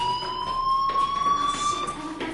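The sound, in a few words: fire alarm ringing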